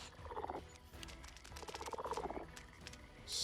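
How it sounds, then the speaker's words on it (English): Many frogs croak in Pathfinder: Kingmaker, a dense rattling chorus swelling in two pulsing waves, loud and close with no talk. "So many frogs."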